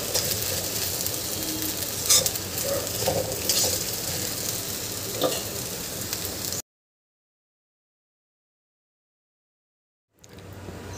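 Sabudana khichdi cooking and being stirred in a pan, a steady sizzle with scraping and a few sharper clicks for several seconds, then silence before a quieter return.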